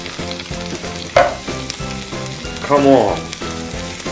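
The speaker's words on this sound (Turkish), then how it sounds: "Domatesler geliyor. Biberler, balık ve soğan yeterince kavruldu, dökün baba." Tomatoes tip into a hot pan of fried peppers, fish and onion for menemen, setting off a loud burst of sizzling and frying that flares twice over steady crackle, with a voice speaking briefly.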